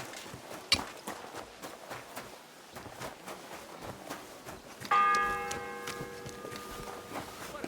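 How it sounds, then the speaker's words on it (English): Church bell striking in the medieval video game Kingdom Come Deliverance 2, a single resonant toll ringing out midway and decaying slowly over a busy background of footsteps and ambient town noise. "The 6th bell."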